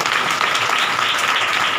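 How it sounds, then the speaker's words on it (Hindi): A congregation claps during a Hindi-language church sermon, producing dense, continuous applause from many hands. It is loud and close, with no pause, and nobody speaks over it. "ताली बजा के"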